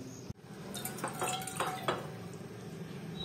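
Freshly washed dishes clink and rattle in a home kitchen, several light, close knocks of plates and cutlery, the contact sounds spaced irregularly amid faint background noise.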